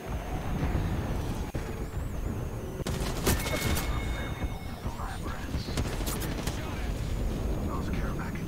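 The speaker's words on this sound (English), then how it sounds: "Airstrike coming in." Video game airstrike: a steady roar of rapid gunfire and rumbling blasts, with a sharp burst of explosions near the middle, while a voice talks over the noise.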